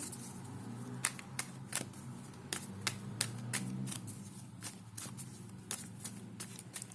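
Sharp, distinct card snaps and slaps, about a dozen spaced irregularly, as cards are laid down one by one close by, with a low hum underneath.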